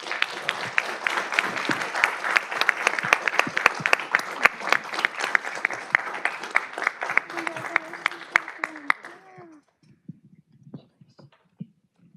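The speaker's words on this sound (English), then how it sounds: "If we can please give her a big round of applause." An audience at a Montebello city council meeting claps steadily for a resident called to the front, dense applause for about nine seconds before it tapers off, leaving a few scattered claps and faint murmuring.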